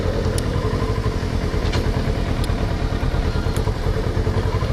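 Kawasaki ER6N motorcycle ridden through Thailand streets, its engine droning steadily and loudly throughout with a constant rumbling tone and occasional light clatter, no voices.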